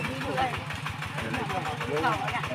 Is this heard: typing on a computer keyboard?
no